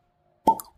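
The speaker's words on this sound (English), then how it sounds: "Cork pop." A cork pops from a bottle of Benromach 15 year Speyside single malt Scotch whisky, one short hollow plop rising out of silence and fading quickly.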